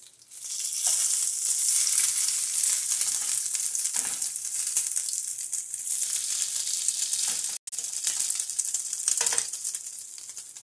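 Bacon frying in a pan over turned-down heat, a steady dense hiss and crackle of sizzling fat running continuously at close range with no talk.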